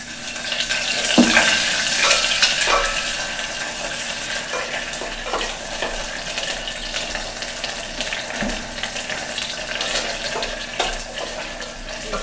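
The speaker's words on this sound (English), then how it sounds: "I'm going to add just a little bit of water to help fry the tomato paste" Water is poured into a pan of frying tomato paste, giving a steady hiss and sizzle with a few soft pops and clicks, close by and without talking.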